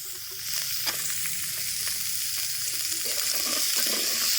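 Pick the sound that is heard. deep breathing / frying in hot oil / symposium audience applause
frying in hot oil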